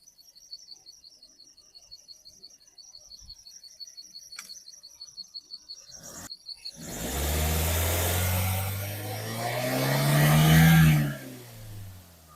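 Crickets and birds chirp softly at first, then a 2021 Maruti Swift Dzire VXI petrol car's engine rumbles to life nearby, swelling in a rising rev before easing back down.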